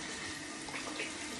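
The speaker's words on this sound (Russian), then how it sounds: "Я мою руки с мылом." Hands are washed with soap under a running water tap, a steady close stream of water splashing continuously without pause.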